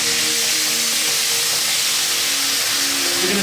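Sautéing ketchup, oyster sauce and chili paste for Sri Lankan prawns produces a steady, fairly loud broadband sizzle with faint steady hum, continuous and unbroken with no talk.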